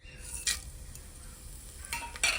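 Cinnamon sizzling in hot oil in a pan, a soft steady fry hiss at close range with a few brief scraping stirs of a utensil against the pan.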